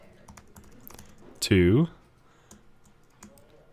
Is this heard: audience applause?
no